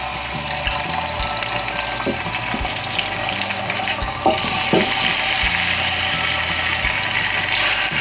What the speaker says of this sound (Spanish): tengo 6 piezas de pollo ya salpimentada previamente y las vamos a dorar